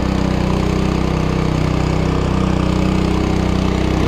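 A concrete power trowel's engine runs at a steady, even drone while finishing a concrete slab, loud and close throughout, with no voices over it.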